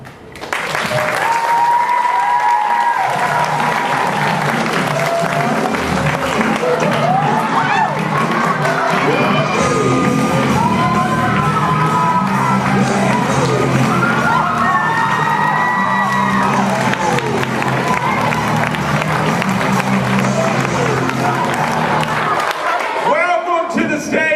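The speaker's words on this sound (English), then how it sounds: "let's go ahead and give a big warm round of applause for our first superstar" A school audience at a Crabbe KPREP Smackdown event claps and cheers loudly and continuously, with whoops and children's shouts rising above the sustained applause.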